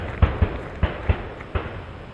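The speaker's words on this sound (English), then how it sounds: "Sounds like someone might be duck hunting or something on the boat." Several dull distant gunshots from duck hunters, five low thumps at uneven intervals over a faint outdoor background.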